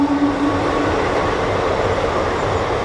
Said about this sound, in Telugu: చూడండి ట్రైన్స్ అయితే వెళ్ళిపోతున్నాయి